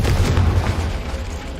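A deep, booming blast from the Confringo explosion spell cast in a wizarding video game, a loud, rumbling low burst that rolls on and slowly fades over nearly two seconds.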